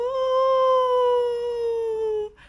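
A wolf's howl, or a voice imitating one, holds a single long, loud, smooth tone that slides gently downward for about two seconds, then cuts off abruptly.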